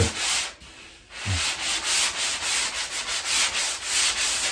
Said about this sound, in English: And then I'll get up higher on my bench and we'll sand the top.